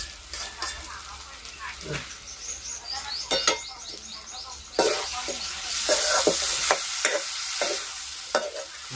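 Okra and potatoes sizzle steadily in a pan while being stirred, scraping and clinking of the spoon over a continuous frying hiss that grows louder midway, close to the microphone.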